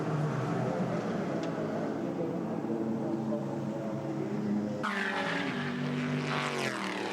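Race cars, Audi prototypes among them, lap the circuit at the 2007 24 Hours of Le Mans under green flag, a continuous engine roar with a car's note shifting sharply as it passes near.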